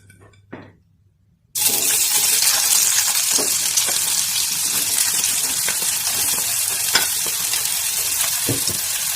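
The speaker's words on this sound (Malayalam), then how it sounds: "ഇനി നമുക്കത് വെളിച്ചെണ്ണയിലേക്ക് ഇടാം." After a brief quiet moment and a soft clink, a loud burst of sizzling begins as chopped shallots hit hot coconut oil, then keeps frying steadily.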